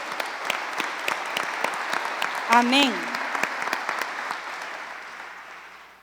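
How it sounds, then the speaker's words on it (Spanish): A church congregation gives sustained applause during a service, with steady clapping that tapers off and one voice briefly calling out over it partway through. "¿Qué le parece si le damos un fuerte aplauso al Señor?"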